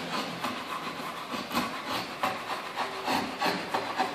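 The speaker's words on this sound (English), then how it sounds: "Next step will be to pass the sandpaper" A carved wooden picture frame being rubbed with sandpaper gives off a close, soft, gritty scratching in uneven back-and-forth strokes, with no one speaking.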